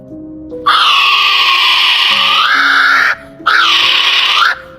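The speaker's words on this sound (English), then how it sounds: "Top 3, kiwi bird." Kiwi bird call: two loud, shrill, sustained screeching whistles that rise and fall, the first about two and a half seconds long and the second shorter after a brief gap, close and alone.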